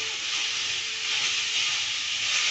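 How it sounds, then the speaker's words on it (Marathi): Chopped onion frying in a pan as it browns for a paneer curry, a steady, even hiss of sizzling oil that fills the whole moment with no talk. "कांदा आपल्याला ब्राऊन होईपर्यंत भाजायचा आहे"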